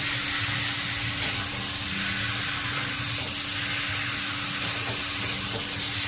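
A spice mixture cooks down in oil in a pan, giving a steady loud sizzling hiss with a constant low hum beneath and a few faint stirring taps, without voices.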